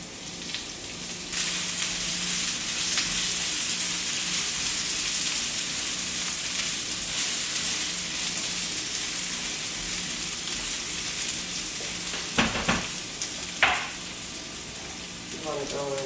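Shallots frying in a pan with sea bass on corn, giving a steady bright sizzle with a crackling hiss throughout, loud and close, then a few sharp clinks and scrapes near the end.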